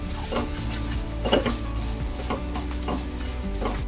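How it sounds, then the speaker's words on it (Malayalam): Cumin powder and garam masala roasting in a pan while being stirred: a steady sizzle broken by repeated scraping strokes and light metallic clinks, close and moderately loud. "ഒരു അര ടീസ്പൂൺ ജീരകപ്പൊടിയും ഒരു അര ടീസ്പൂൺ ഗരം മസാല ഇപ്പം ചേർത്ത് നല്ല പോലെ ഒന്ന് മൂക്കുന്ന വരെ ഇളക്കാം"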